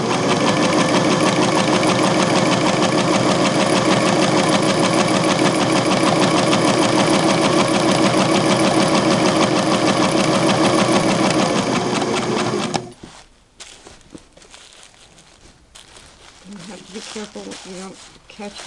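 A Singer 6212C sewing machine runs a continuous, loud, rapid stitching whir for about thirteen seconds, then stops abruptly, leaving faint handling noises and rustling.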